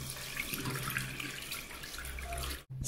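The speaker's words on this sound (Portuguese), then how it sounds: "Vamos lá ver a pressão, como é que ficou." A shower runs after its water pressure has been raised, giving a steady hiss and splash of falling water that continues evenly before cutting out abruptly near the end.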